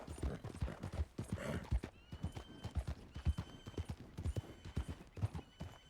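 Steady clip-clop of horse hooves at a trotting pace, close and distinct, with a faint high tone lingering in the background.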